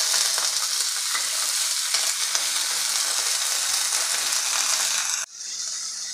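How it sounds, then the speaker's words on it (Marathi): Green peas and chillies fry in a pan with a loud, steady sizzle and occasional stirring scrapes, then the hiss drops abruptly near the end. "आता मटार परतून घेतला की त्यामध्ये घालायचं आहे"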